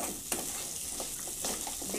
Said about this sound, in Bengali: এই দেখুন কাঁকড়াটা দিয়ে নাড়াচাড়া করে নেব